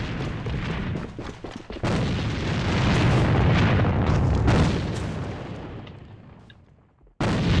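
Repeated grenade blasts in a multiplayer shooter game, a loud sustained series of booming bursts that slowly fade out, then a sharp new burst at the very end, with no talking.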